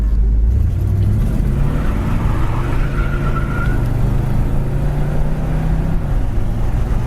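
A 1970 Chevy Monte Carlo rolls down the road with a loud, steady engine rumble inside the cabin, the revs climbing and then dropping as the transmission shifts firmly through its gears.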